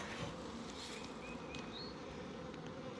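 A swarm of packaged honeybees buzzes densely while clustering around their queen, a steady close hum with individual wingbeats flickering through it.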